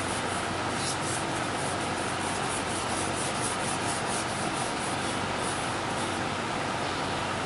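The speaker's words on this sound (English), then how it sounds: "So I have my lacquer-based sanding sealer here, and I'm just going to give it a light coat" A lacquer-based sanding sealer is rubbed onto a turned wooden platter, giving a steady, close, continuous scrubbing hiss with no breaks and no voices.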